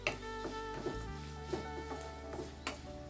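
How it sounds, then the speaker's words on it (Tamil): Grated coconut and turmeric sizzle steadily in a hot pan while a spoon stirs, with soft scrapes recurring about every half second and no talk. "இதை ஒரு 2 நிமிஷத்துக்கு கிளறிக்கலாம்."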